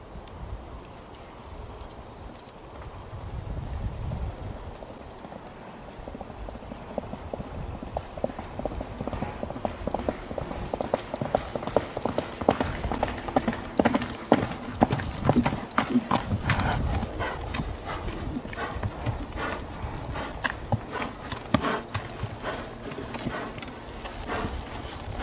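Horse hooves clip-clop steadily as a rider in 4th-century Bosporan Scythian gear with Greek-style greaves rides, the hoofbeats growing louder and denser over the clip, with occasional faint snorting and ambient outdoor noise.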